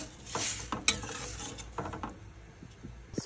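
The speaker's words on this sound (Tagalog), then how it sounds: "Haluin na lang siya." A mung bean stew is stirred in a metal cooking pot, with a few close scrapes and clinks of a utensil against the pot in irregular strokes and little else.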